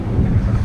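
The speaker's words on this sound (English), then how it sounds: "It's too windy." Strong outdoor wind buffets a phone microphone, producing a steady low rumble that fills the short moment without any voices.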